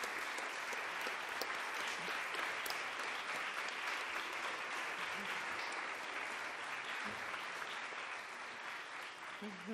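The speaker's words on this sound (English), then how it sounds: "If the volunteers could make themselves visible and get a round of applause" Sustained audience applause for volunteers at a data festival plenary session, a dense steady roar of clapping from a large crowd that fades slightly near the end.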